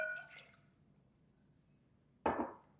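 A cup of water splashes into a mixing bowl of coconut cake batter in a home kitchen, one short wet gush near the end after a quiet stretch.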